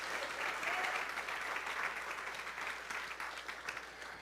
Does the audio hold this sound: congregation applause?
yes